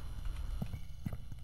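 Footsteps thud in the first-person shooter CULTIC, a few uneven in-game steps close by over a steady low rumble of game ambience.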